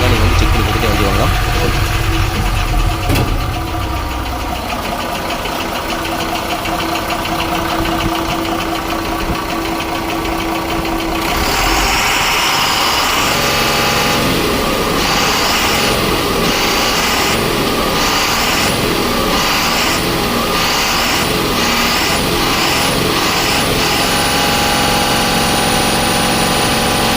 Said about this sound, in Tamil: வண்டியோட என்ஜின் கண்டிஷன் இப்போ காமிக்கிற பாருங்கள்.